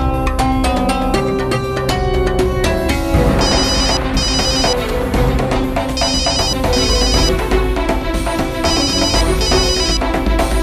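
A phone ringtone plays loudly and steadily after a call is placed in a Hindi TV drama scene, its melodic tones repeating in regular bursts over dense musical backing with no talking.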